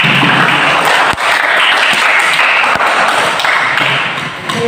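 A classroom of students applauds a student group, loud dense clapping close by, steady for several seconds with a few sharper taps and knocks, then easing off slightly at the end.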